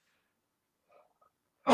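A single sudden sneeze bursts out at the very end after near silence, preceded by a little faint breathing.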